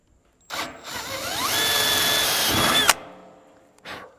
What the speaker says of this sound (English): I'm actually gonna just run my drill bit out a little further, just so I have a little more length